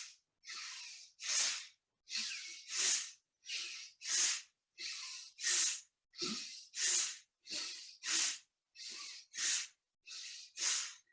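Deep breathing during a guided breathing exercise: about thirteen strong airy breaths in a steady, even rhythm, close and loud, with short silent gaps and no talking.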